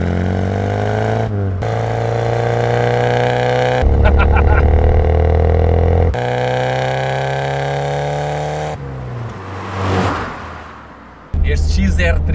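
The fuel-injected engine of a Ford Escort XR3i revs loudly and close, a droning, strongly pitched tone that rises and falls across several abruptly cut segments, with a brief rushing surge near the end.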